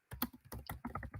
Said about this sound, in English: I'm going to type the command and explain